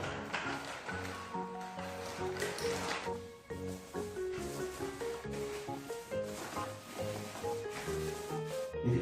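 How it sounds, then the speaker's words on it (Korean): A paint roller rolls up and down across a wall in repeated strokes, giving soft sticky rubbing and squishing sounds with a steady rhythm, while music plays underneath. "W자로 W자로 이렇게 칠해주면 됩니다"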